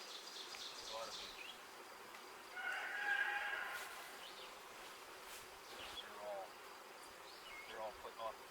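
A honey bee swarm fans and buzzes outdoors during a May capture, a steady low hum that swells louder for a moment midway while other insects and birds sound faintly around it.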